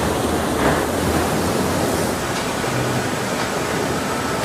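A flatbed truck's load of cucumbers is flushed out by rushing water, a loud, steady broadband gush that pours continuously without a break and with no voices over it.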